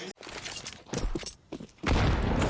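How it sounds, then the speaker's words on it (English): Desert Eagle pistol gunfire during a Counter-Strike esports match at IEM Katowice 2023, with sharp shot bursts and in-game action cutting in before a dense, sustained burst of game noise near the end. "the Deagle does it for Liaz."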